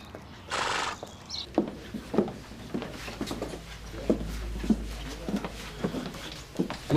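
A horse is walked on foot back to the stables, its hooves clip-clopping in an uneven rhythm close by, with a short whinny near the start.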